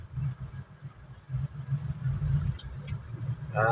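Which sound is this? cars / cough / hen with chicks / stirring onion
cars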